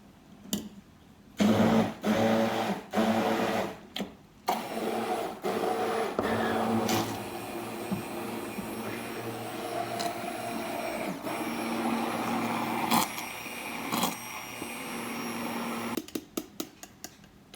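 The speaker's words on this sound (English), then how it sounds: "we're just going to blend it up until it's nice and frothy" A hand blender whirs loudly in bursts that start and stop, then runs steadily for several seconds before cutting off, frothing coffee for a caramel macchiato.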